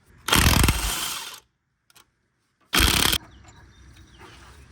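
Power ratchet removing 15mm brake caliper bolts on a Ford Ranger, two loud, close bursts of buzzing rattle separated by a quiet pause with faint clicks.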